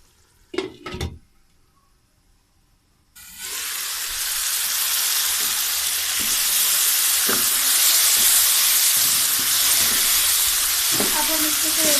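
Onions and tomatoes sizzle and fry steadily in a pan for a bitter gourd and chana dal, a loud continuous hiss after a few brief clatters and a quiet pause at the start.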